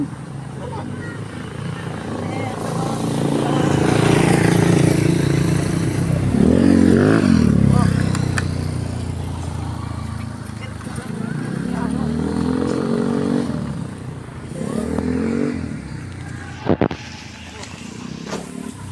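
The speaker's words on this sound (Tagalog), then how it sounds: "Ay, may motor." A motorcycle passes along a road, its engine swelling to a loud rumbling peak and then fading, with people talking over it during a child's bicycle practice.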